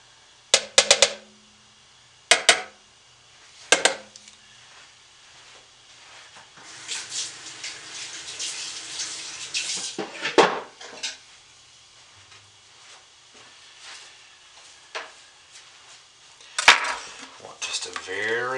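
Lye solution poured into oils and mixed for soap making: a few sharp metallic clinks and taps of utensils against containers, then a soft sloshing pour and quiet stirring, close and mostly gentle with occasional louder knocks.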